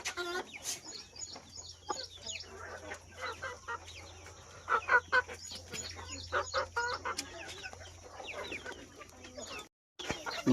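Native breed chickens and a rooster on a farm, with repeated clucks and short squawks coming at irregular intervals, moderately close, over a low steady hum, with brief pauses in the clucking.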